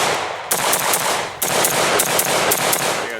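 AR rifle fitted with a TriDelta muzzle brake firing a rapid string of shots outdoors at a chronograph: loud sharp cracks in quick succession, a short pause near the start and another mid-string, with no talking.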